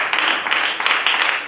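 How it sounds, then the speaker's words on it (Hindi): A church congregation claps together in a quick, rhythmic pattern of close, loud hand claps with slight pulsing, and no one speaks over it. "क्या आप ताली दे सकते हैं?"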